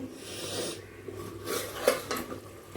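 Pots and pans clink and scrape in a home kitchen while chicken cooks alongside dal, fried greens and rice, with soft rasping and stirring sounds and a few sharper metallic knocks.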